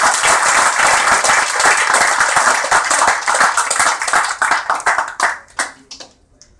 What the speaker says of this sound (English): please, a round of claps for them